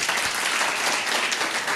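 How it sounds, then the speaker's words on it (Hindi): An audience at a Hindi church gathering claps loudly and continuously, a dense wash of many hands close by with no break. "जितने लोग सुन रहे हैं एक बार ताली बजा दीजिए जोर से।"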